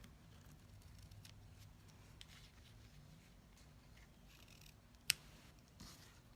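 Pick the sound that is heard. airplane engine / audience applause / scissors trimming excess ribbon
scissors trimming excess ribbon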